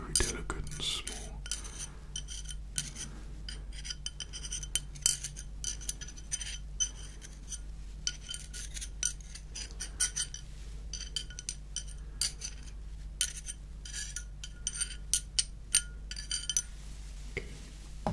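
Metal drill bits are handled and clink together softly and close in a quiet room, with many small scattered taps and jingles.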